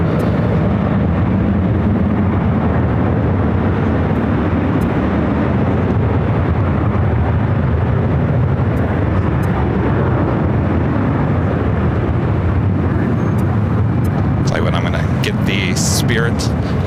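A Boeing 737-800 airliner takes off from the north side of LAX, a steady broad jet roar sustained throughout, with a voice talking over it.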